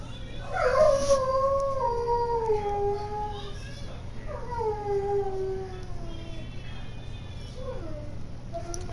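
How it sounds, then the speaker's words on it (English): A Rottweiler howls in a long, wavering series, its voice sliding and bending, with three separate howl phrases rising and falling over steady background hum, fairly close and clear. "My dog is singing."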